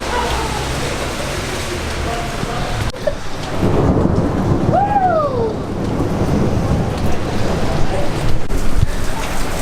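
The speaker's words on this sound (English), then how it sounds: "It was thunder and lightning a lot." Loud thunderstorm with a steady wash of heavy rain and rolling thunder rumbling close by throughout.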